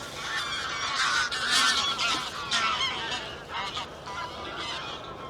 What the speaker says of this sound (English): there's loads of geese coming in.